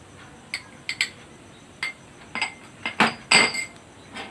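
A spoon clinks and scrapes against a bowl while chopped dry fruits are mixed for Rooh Afza sharbat, giving sharp, irregular taps and chimes at close range with quiet gaps between them.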